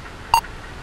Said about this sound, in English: Jack's paralyzing fear was broken by a loud beeping sound that seemed to call his name.